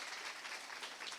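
An audience at a youth conference livestream applauds, dense clapping heard from a distance and fairly faint, a steady wash of hands with no speech over it.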